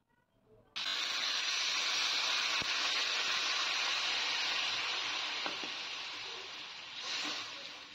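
Water poured into a pan of fried vegetables for a tengra fish curry with potato and stems sets off a sudden loud, steady hiss and sizzle that holds for several seconds, then slowly eases with a brief flare near the end.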